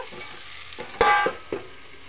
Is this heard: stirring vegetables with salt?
yes